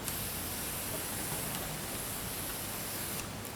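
Organic fertilizer sprayed onto orchid leaves, including oncidium, from a hand sprayer, a continuous soft hissing mist held steady for several seconds before easing off.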